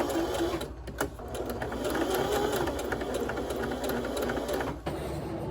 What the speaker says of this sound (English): I'm just going to top stitch it, and then I'm going to sew one edge in, just fold it over and sew along so it's not exposed